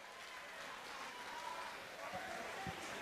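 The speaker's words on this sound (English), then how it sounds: "Round of applause, Gary" Crowd applause for fighter Gary McDonald at a Beatdown II fight event, a steady wash of clapping throughout with a few low thumps near the end and faint voices mixed in.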